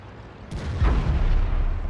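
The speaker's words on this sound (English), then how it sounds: "And we take a rather meaty shell." A heavy tank shell strikes in the World of Tanks game, a sudden sharp crack followed by a deep rumbling boom that rolls on and stays loud to the end, with no talking.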